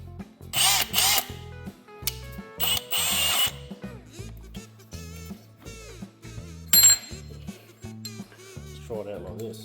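A power drill fitted to a jet ski engine in a garage whirs in short, stop-start bursts, close by, with rising and falling pitch and gaps between runs.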